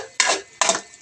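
A utensil scrapes and clatters against a cooking pan as soy-seasoned food is stirred: two quick scraping strokes, close and fairly loud, with no talking over them.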